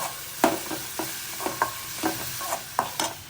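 Vegetables sizzle in a pan with salt and turmeric as a spoon stirs them, giving a series of sharp scraping clinks at irregular intervals over a soft, steady frying hiss, close and fairly quiet.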